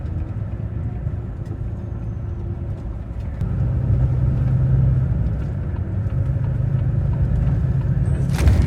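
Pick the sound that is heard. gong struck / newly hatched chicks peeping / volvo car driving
volvo car driving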